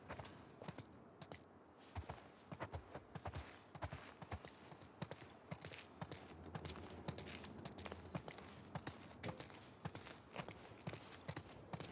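Horse hooves clip-clopping in the video game The Last of Us 2, a steady, fairly quiet patter of hoofbeats walking over a busy outdoor background.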